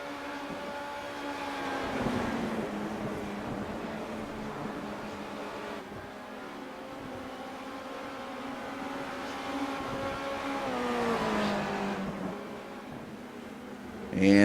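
Race cars in iRacing circle Silverstone toward Brooklands corner, engines droning in a sustained layered whine that rises and falls as they shift, with a sharp burst at the very end.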